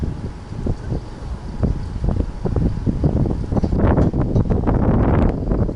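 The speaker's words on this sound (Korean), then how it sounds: "지금부터 바람이 시작합니다" Gusty wind buffets the microphone on a snowy winter day of crucian carp fishing, a steady rushing roar that swells louder and denser in the second half with rustling bursts.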